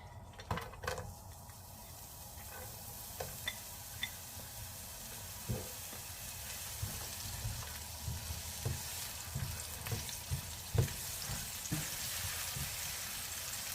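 Onion and garlic sizzle steadily in a hot pan while being prepared for vegetable lumpia, a constant close frying hiss punctuated by occasional scrapes and taps of a utensil stirring against the pan.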